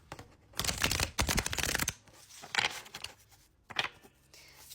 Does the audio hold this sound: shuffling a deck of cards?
yes